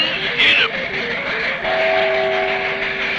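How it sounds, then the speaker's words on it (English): A cartoon train runs off its track, a busy clatter of rail noise with a brief shrill whistle burst early on, then a steady two-tone horn or whistle tone held to the end. "You got the train off the track."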